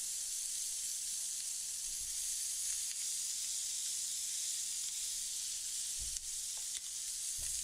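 Sausage sizzles in a pan for gravy, a steady, bright hiss of frying with occasional soft pops and stirring clicks. It is heard up close without talk.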